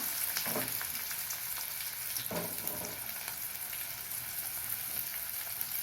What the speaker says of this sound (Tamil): ஒரு ஸ்பூன் கடுகு தாளிச்சிக்கலாம் கடுகு பொரிஞ்சு